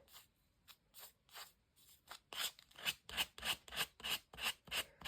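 Rhythmic rasping strokes of scraping excess paper off the edges of a junk journal page, close and quiet, starting slow and spaced and then speeding into a steady, louder back-and-forth scrape.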